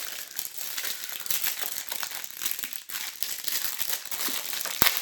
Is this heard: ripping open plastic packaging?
yes